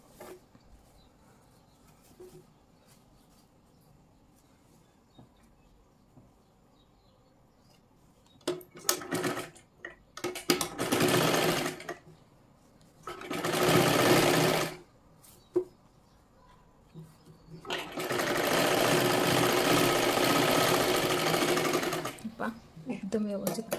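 A sewing machine stitches the inner side seam of a boat-neck katori blouse in three loud motor bursts, short, short, then long, separated by quieter handling noise, with a person talking in between.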